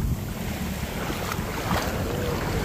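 Water waves washing steadily with heavy wind buffeting the microphone, a loud, continuous broadband rush without pauses.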